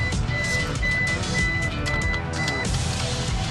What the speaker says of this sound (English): The seatbelt buzzer in the Ram van is definitely going to prompt you to get your belt on right away.